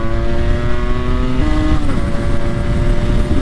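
A motorcycle engine held at high RPM, a loud, steady close-up drone with a sharp shift in pitch partway through, continuing without talk.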